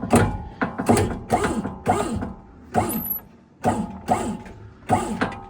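A jack ratchets in repeated rhythmic strokes while lifting part of a Land Rover, each crank a close, loud clicking burst separated by short pauses, with no talk.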